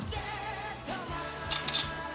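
A couple of quick, crisp shutter clicks from the camera of an i-mobile IQ 9 phone, close by over a low steady background hum.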